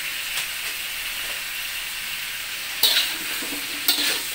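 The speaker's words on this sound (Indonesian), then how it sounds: "Kita aduk dulu." A spatula stirs sapo tahu in a hot pan, with a steady soft sizzle throughout and a couple of brief scraping clatters near the end.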